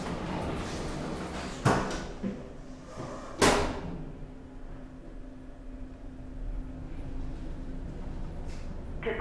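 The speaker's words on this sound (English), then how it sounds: "Doors closing." An OTIS 2000 traction elevator at Dublin Airport Terminal 1 closes its doors, two sharp sliding thumps a couple of seconds apart over a steady hum of the car and hall.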